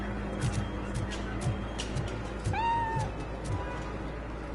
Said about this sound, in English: Why is that cat so damn loud?